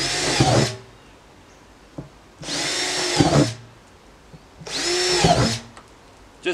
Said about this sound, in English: we can turn it upside down and drill four holes at the bottom here